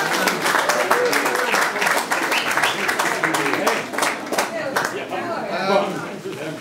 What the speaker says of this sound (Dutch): Jullie moeten klappen.